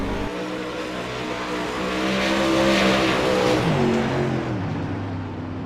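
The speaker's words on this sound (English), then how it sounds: "Right now that is Blake Majulis on the racetrack" A modified race car engine roars steadily on the Eldora dirt track during a Modified Series event, loud and continuous, its pitch climbing and shifting as the car accelerates through a lap, with no talking.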